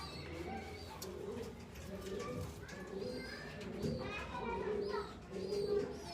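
A pair of teddy pigeons in a breeding setup coo repeatedly in soft, throaty rolling calls, fairly close, with background voices and other birds faintly audible underneath.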